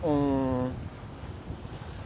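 Strong headwind rushes over a boat at sea, a brief voice at the start giving way to a steady, buffeting roar of wind noise on the microphone.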